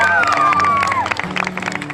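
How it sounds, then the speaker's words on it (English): Crowd applause and cheering for volunteers at a Lake Wallenpaupack community festival in the Pocono Mountains, dense clapping with a few whoops rising under a sustained tone, then thinning into scattered claps near the end. "Let's have a round of applause for all of our wonderful"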